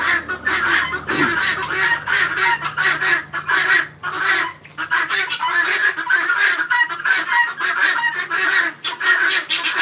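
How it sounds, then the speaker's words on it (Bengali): Guinea fowl kept with poultry call noisily and continuously, harsh honking cries overlapping from several birds nearby with hardly a pause. "তিতিরগুলো খুব চিলাচিলি করে খুব বিরক্ত লাগে"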